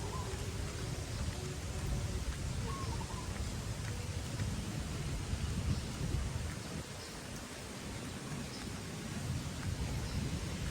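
Steady rain pours down, a continuous soft hiss that fills the whole stretch without breaks.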